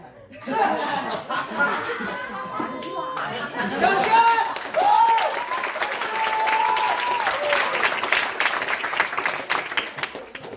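Audience applause at a multi-level-marketing talk rises into steady, lively clapping mixed with chuckles, laughter and chatter, and continues for about ten seconds.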